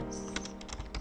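Fingers type quickly on a computer keyboard, a quiet, close run of irregular key clicks over a low background hum.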